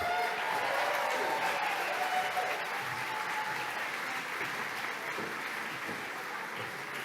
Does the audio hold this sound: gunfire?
no